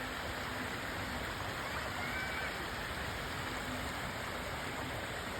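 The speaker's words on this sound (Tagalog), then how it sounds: "Malakas ang tubig." Steady, dense rushing of strong floodwater during typhoon rains, a constant broadband roar like a strong flowing current, continuous throughout with no voices.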